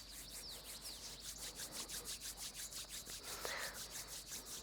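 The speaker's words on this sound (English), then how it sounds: "Rub your hands together," Palms rub briskly together in a steady back-and-forth rhythm, making a close, soft swishing friction during a morning yoga flow, with no talking.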